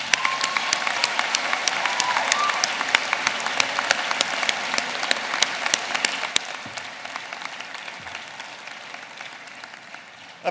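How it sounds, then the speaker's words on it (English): Convocation audience applauding in a large hall, dense sustained clapping from many people that gradually thins toward the end, with faint voices underneath. "may I ask you to join me in a round of applause for the Mount Royal faculty and staff"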